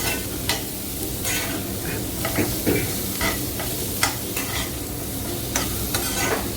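Snake gourd and onions sauté in a pan with a steady close sizzle, punctuated by frequent sharp spatula scrapes and taps against the pan in an uneven rhythm.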